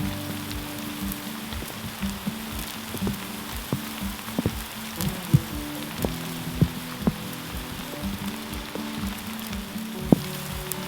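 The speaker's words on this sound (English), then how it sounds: "Obviously, it'd be better if it wasn't raining." Rain falls steadily at a remote backwoods campsite, a soft continuous hiss broken by scattered close drips and taps landing on nearby surfaces, with no voices.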